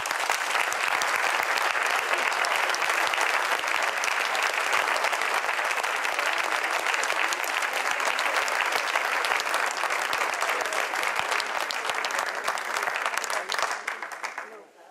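A concert audience gives a singer sustained, dense applause, loud and steady for about fourteen seconds before dropping off abruptly at the end.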